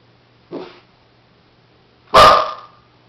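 Two separate dog barks, a short softer one followed by a louder, sharper bark a moment later, against a quiet background.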